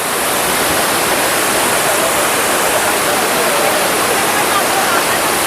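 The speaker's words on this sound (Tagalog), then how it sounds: "Dahil siguro gawa ng bagsak nitong tubig na ito mula doon sa ibabaw ng falls na ito." Aliw Falls pours down in a loud, steady, close roar of falling water with no break.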